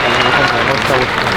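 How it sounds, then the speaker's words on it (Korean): A combat sports event crowd applauds the new champion after the fight, a loud, dense wash of clapping and cheering heard under an announcer's voice. "새로운 챔피언 킹콩 선수께 다시 한번 박수 부탁드리겠습니다"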